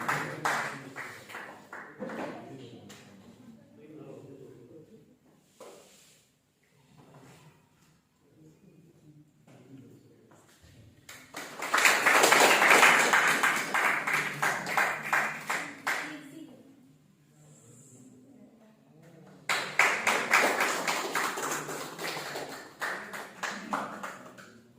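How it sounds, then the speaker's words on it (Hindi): An audience at a Maithili book event bursts into applause twice, a sustained loud round of clapping followed later by a second burst, with a speaking voice before and between them. "एक बार जोरदार ताली प्रतिभा मैम के लिए और उनकी उपलब्धि के लिए।"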